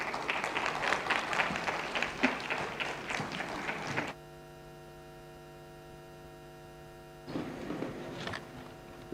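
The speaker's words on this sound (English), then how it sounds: "A round of applause, please." Applause from the audience at a Caribbean–African trade and investment forum: a loud burst of clapping for about four seconds cuts off to a low electrical hum, then fainter clapping returns near the end.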